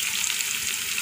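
Potatoes, peas, cauliflower and tomatoes fry in a pan for a Marathi-style sabzi, giving a steady, close, even sizzle with a soft crackle throughout and no talking.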